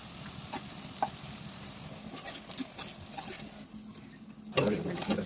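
Brinjal pieces fry in a pan with turmeric and chili powder, giving a steady soft sizzle with occasional stirring scrapes and taps, and a louder burst of crackling near the end.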